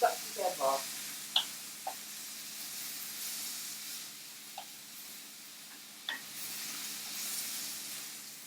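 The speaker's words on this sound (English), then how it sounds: "I'm just going to stir it up a little bit first." Smoked bacon and pancetta fry in a pot with a steady low hiss while a few scraping stirs and clinks come through near and clear, with a voice talking over the start.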